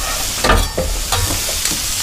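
Hermosillo-style hot dogs fry on a cooker, giving a steady close sizzle with a few sharper crackles and pops over about two seconds; no one speaks.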